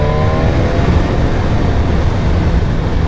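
A 2018 BMW S1000RR motorcycle exhaust drones loud and close at speed, a steady engine roar with a faint rising whine that soon settles under strong wind noise.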